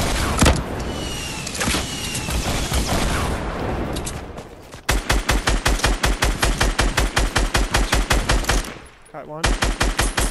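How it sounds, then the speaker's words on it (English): Rapid bursts of automatic gunfire from a Fortnite match ring out close and loud in fast, even rhythmic volleys, with a short pause before the shooting starts again, all set against busy game sounds. "He shot me in the air, Matt."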